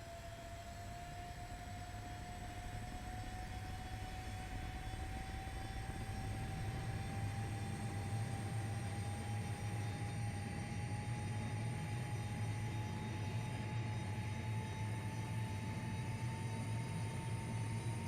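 The turbojet engines of an Arado Ar 234 jet bomber in the IL-2 Great Battles flight sim roar in a steady, loud drone. A high whine climbs slowly over the rumble and runs unbroken with no speech.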